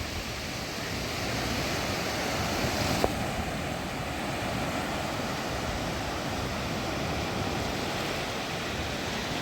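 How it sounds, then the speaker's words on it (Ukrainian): Sea waves roll onto a beach at Side, Turkey, in a continuous roar of stormy surf, with wind buffeting the microphone. The noise stays loud and steady, with no voices. "А море таке неймовірно красиве на заході сонця, хвилюється. І хвилі так розходяться далеко по пляжу."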